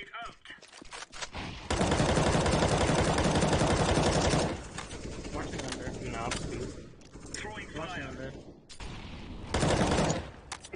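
Rapid automatic gunfire from the video game CS:GO, loud bursts and strings of shots in an intense firefight with a player's voice talking briefly between them.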